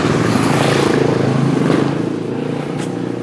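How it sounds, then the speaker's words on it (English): A biker gang's motorcycles roar past on a road in Croatia, a continuous rumbling engine drone that swells and then eases slightly as they move away. "there's literally a biker gang going by"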